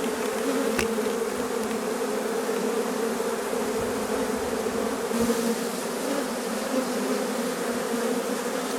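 Honeybees streaming out of the hive in a swarm, a steady close buzzing drone of beating wings that holds throughout with no pauses.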